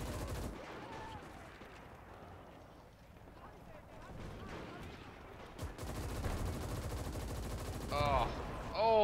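Machine gun fire in the World War II battle game Gates of Hell: rapid distant rattling bursts in a rumbling battlefield, growing louder toward the end, with someone talking over it.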